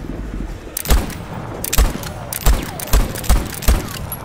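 Gunfire in the video game Voidtrain: about seven sharp, loud shots with low thumps, spaced roughly half a second apart in an uneven rhythm, over a quiet ambient background.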